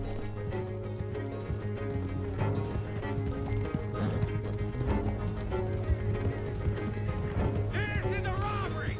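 Horses gallop and clip-clop through Red Dead Redemption 2 in a steady, dense rhythm beneath music, with voices shouting over the ride and a whinny near the end.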